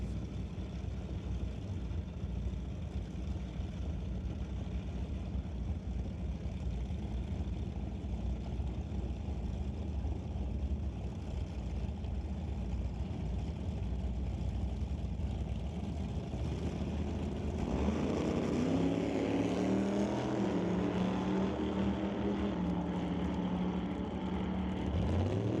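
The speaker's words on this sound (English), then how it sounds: "Jim Banky takes his Plymouth Barracuda up to Bear, racing against Warren Jacobson in the 67 Chevy 2" Drag racing at an eighth-mile strip, a Plymouth Barracuda against a 1967 Chevy II, heard as a steady loud engine drone that swells into a harsher, louder roar near the end.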